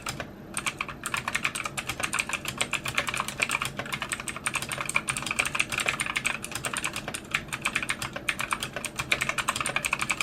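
Rapid, continuous keystrokes clatter on a gaming keyboard during a typing test, close and crisp, with no voices.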